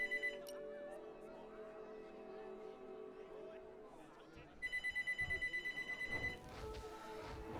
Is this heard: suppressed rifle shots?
no